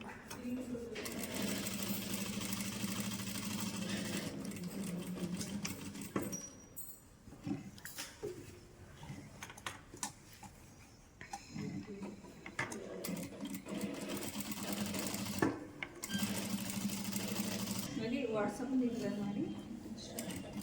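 An electric sewing machine stitches a short kurta with full bell-bottom sleeves, running in long steady whirring bursts with short pauses between seams, close and loud, while a voice talks at times.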